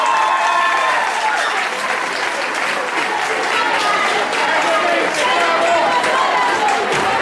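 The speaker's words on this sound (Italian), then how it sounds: "quindi facciamo un applauso." Loud, sustained clapping from a crowd at the award ceremony of the San Pietro's Cup 2011 tournament, dense and steady throughout, with voices mixed into the applause.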